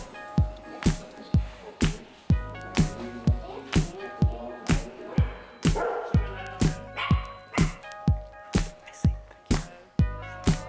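Therapy dogs bark in a steady run of sharp, loud barks close by, roughly two per second with some yips and whimpers between, in a healthcare or education setting.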